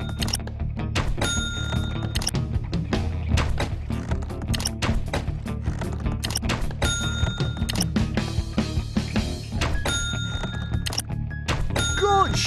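Shots hitting targets in the Sly Cooper Thieves in Time shooting gallery game: a rapid series of sharp thunks, each often followed by a bright ringing ding, repeated steadily over a constant game background.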